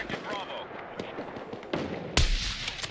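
A rocket launches in a video game firefight, a sudden loud blast near the end after scattered distant gunshots and game noise, with a voice talking over it.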